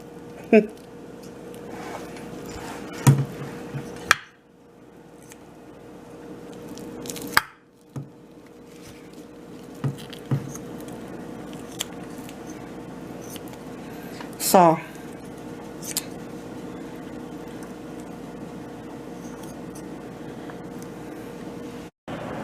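A knife trims fat from a raw chuck roast on a board, making intermittent scraping and cutting sounds with a few sharp clicks and taps, spread across a quiet room.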